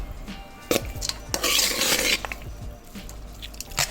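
Mango rice is stirred in a metal pot, with sharp clinks and scraping knocks of a utensil against the pot and a brief rush of rubbing sound in the middle, close and fairly loud.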